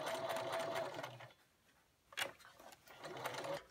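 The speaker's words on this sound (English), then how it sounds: "you could use a fancy stitch to go around here if your machine has decorative stitches on it" A sewing machine stitches around a fabric hair scrunchie in two bursts of steady rapid mechanical whirring, split by a short pause and a sharp click, close and fairly loud with no voices.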